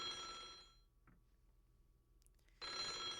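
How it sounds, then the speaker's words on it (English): A telephone bell rings in the video game Otogirisou, loud ringing bursts at the start and again near the end with a quiet gap between, no voices. "The sound of ringing echoes through the spacious hall."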